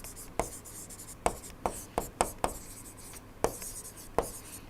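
Chalk or marker scratches and taps on a lecture-hall board in short, irregular strokes with sharp ticks, heard close against a faint steady hum.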